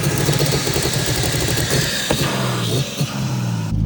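Rotary-swapped BMW E36 drift car fitted with a budget eBay turbo kit, running nearby with a loud, lumpy, pulsing exhaust note at a rough idle, dipping briefly toward the end.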